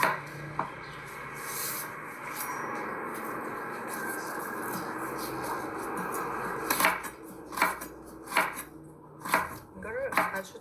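Knife slicing black ginger on a board for tea, a steady rasping cut at first, then several loud, distinct chopping strokes near the end.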